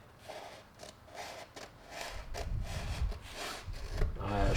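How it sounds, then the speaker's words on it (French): Large scissors cutting covering wrap film on a model aircraft, a run of close, dry snipping and rubbing strokes that grow louder and rougher toward the end, with no talk over them. "moi je le coupe simplement. Alors j'ai pris un grand ciseau exprès."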